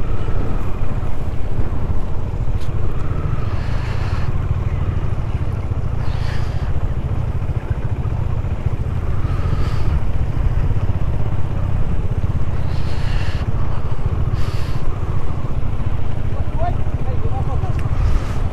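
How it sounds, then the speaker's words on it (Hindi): Strong winter wind buffets a motorcycle on a snowy road near Jawahar Tunnel in Kashmir, with a steady loud roar and low rumble throughout and a few gusty swells, while someone talks over it. "भाई साहब क्या तेज हवा चल रही है यार"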